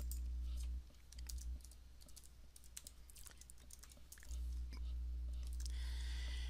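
Typing on a computer keyboard while entering a database password, a steady patter of close, soft key clicks under a low hum, with brief pauses between bursts.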